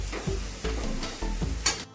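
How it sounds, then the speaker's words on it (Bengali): Grated carrots fry in ghee for carrot halwa, a close crackling sizzle broken by several rhythmic scrapes and stirs of a spoon against the pan. "এই যে দেখো গাজরটা ভালো করে ঝরঝরে করে ভেজে নিয়েছি।"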